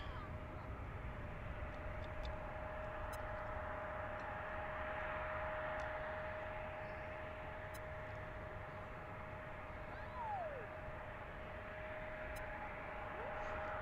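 An airliner departs Washington National Airport, a steady distant jet roar with a faint droning tone, heard from a park near the runway and holding evenly throughout.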